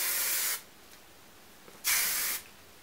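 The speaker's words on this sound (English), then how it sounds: "lifting up pieces and then giving it a little bit of a spray down" Hairspray is sprayed onto hair in two short, close bursts, each a sharp hiss of about half a second, separated by a brief quiet pause.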